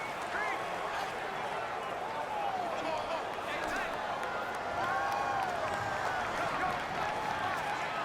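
Roaring stadium crowd in the Madden 19 football video game, a Patriots vs Rams Super Bowl 53 simulation, a steady dense wash of cheering and noise throughout, with chants and whistles rising above it at times.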